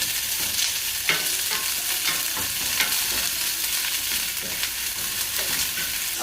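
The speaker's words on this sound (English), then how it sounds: "You want to hear that little sizzling." Chopped onion sizzles in hot oil while being sautéed in a pan for chicken and chorizo tinga, a steady close crackle with occasional stirring scrapes.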